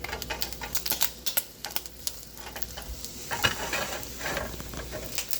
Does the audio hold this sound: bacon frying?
yes